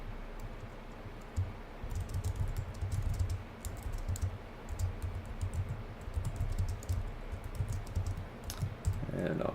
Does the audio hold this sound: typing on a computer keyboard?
yes